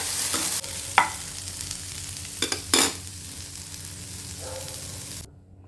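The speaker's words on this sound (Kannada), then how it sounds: "ಇದು ಬ್ರೌನ್ ಕಲರ್ ಬರೋವರೆಗೂ ಫ್ರೈ ಮಾಡ್ಕೋಬೇಕು." Onions for onion chutney fry in a pan with a steady close sizzle, broken by a few clinks and scrapes of stirring before the sound cuts off near the end.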